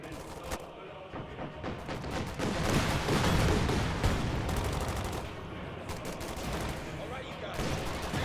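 Gunfire from an anti-tank gun emplacement hitting a half-track in a video game battle, with dense overlapping shots and explosions sounding continuously across the whole stretch, loud and busy.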